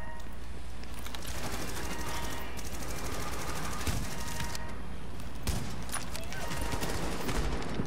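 Bursts of automatic gunfire rattle repeatedly through a PvE match of the video game PTS 1.6 (Warren Gate, Legendary), dense and continuous with overlapping shots and game ambience.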